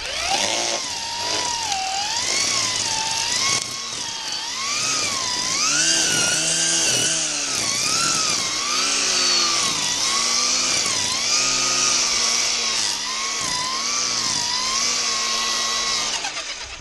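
A Ryobi 40V Expand-It battery string trimmer runs loud and close, its whine rising and falling steadily as the line cuts through grass and brush.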